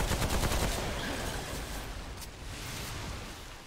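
Dense, loud bursts of rapid gunfire from Remnant: From the Ashes during a boss fight in the Swamps of Corsus, sustained shots that thin out and fade somewhat toward the end, with no talk.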